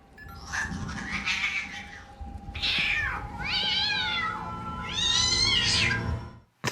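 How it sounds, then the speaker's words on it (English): A cat in a Chucky horror film scene lets out a series of long, drawn-out meows and yowls, three or four loud wailing cries rising and falling over a low background hum. "he plays the sound of him killing the cat while the kid tries to sleep"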